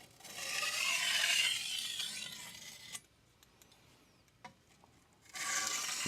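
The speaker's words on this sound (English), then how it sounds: "So this is 5 edge leading strokes at the same sharpening angle, just to reduce that burr down." A knife blade drawn edge-first across a DMD resin bonded diamond sharpening plate, giving two close, gritty rasping passes separated by a quiet gap with a couple of light taps.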